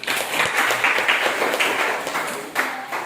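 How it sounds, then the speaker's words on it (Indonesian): An audience in a group-presentation session breaks into applause, a steady wash of many hands clapping at moderate distance, rising and thinning slightly over a few seconds. "Berikan tepuk tangan."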